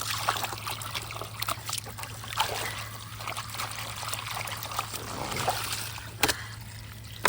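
Water poured to refill a cat's large water container, a steady close trickle and splash running throughout under a low constant hum, with no talk.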